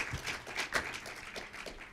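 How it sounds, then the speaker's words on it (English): Audience applause for conference panelists, a faint scattered patter of clapping hands that swells and thins unevenly over two seconds, heard from some distance in a quiet hall. "Please give a round of applause."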